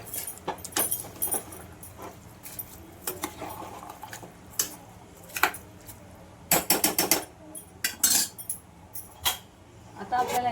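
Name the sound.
stirring rice in a pot for chicken pulao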